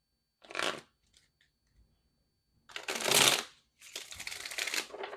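Tarot cards being shuffled close by in three short bursts, a quick riffle, a pause, then two longer rustling shuffles.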